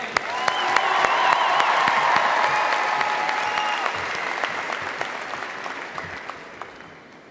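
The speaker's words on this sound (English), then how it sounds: "please give a huge round of applause to the immense efforts of the Farm Credit Alliance" A convention crowd at a state FFA session gives a full round of applause: dense, steady clapping from many hands fills the hall, holding strong for several seconds before gradually thinning and fading out.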